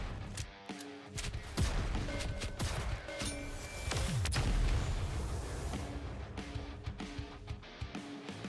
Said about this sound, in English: because it's technically a shotgun